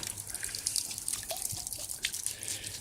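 Smelly dirty river water splashing and trickling out in an uneven pour, with dripping and sloshing outdoors during a river clean-up, no talking.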